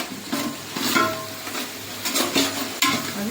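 Ginger garlic paste is stirred in a pan for a vegetable kurma, a spoon scraping and clinking against the metal in irregular strokes over a soft, steady sizzle.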